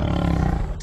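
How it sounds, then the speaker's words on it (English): A lion lets out a deep, loud roar, a single rumbling growl that holds steady and then fades near the end, close and alone. "the lion is the loudest one of all."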